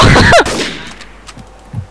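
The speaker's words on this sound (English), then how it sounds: "I heard a gunshot as well." A loud, close gunshot in Garry's Mod Trouble in Terrorist Town, a sharp blast at the start that quickly decays into a fading echo, followed by a few faint scattered sounds.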